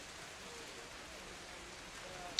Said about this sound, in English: rain sounds a little loud